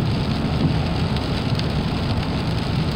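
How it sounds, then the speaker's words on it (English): Heavy rain pours steadily onto a car driving in central Texas on a cold day, a dense, loud, unbroken hiss with road noise and no talking. "It's just raining like a dog."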